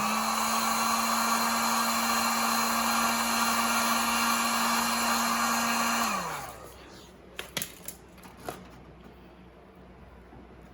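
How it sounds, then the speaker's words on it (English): A heat gun warms vinyl adhesive blackout tape on an '88 Jetta 4X4, blowing with a steady, loud whine for about six seconds before it winds down and shuts off, followed by a few soft crackles and peeling sounds. "Just got to heat it with a heat gun."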